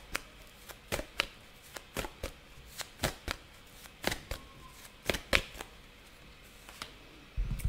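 Tarot cards are shuffled by hand at close range, giving a series of sharp, irregular snaps and riffles separated by short quiet gaps.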